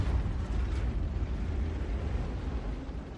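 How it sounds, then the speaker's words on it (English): Tank cannon shot striking a T-30 tank destroyer in a video game, a deep, heavy explosive rumble that fills the clip with sustained low roar and no voices. "Direct hit right into the turret of that T-30"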